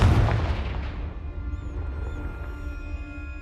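A Confringo fire spell blast in Hogwarts Legacy goes off as a single loud, deep boom at the start, then rolls off into a long decaying rumble with no voices.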